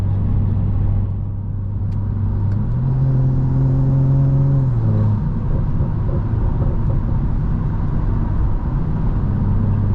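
Stage 2 tuned BMW M340i cruising at night, heard from inside as a steady low engine drone with a brief rise in pitch as it revs, then settling back to a constant rumble.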